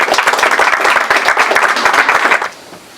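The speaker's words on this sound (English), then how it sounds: "To all the volunteers, a round of applause for all of them who are here" Applause for volunteers at a Habitat for Humanity house key ceremony in Hillburn, Rockland, a lively burst of clapping from a small gathering that fades out near the end.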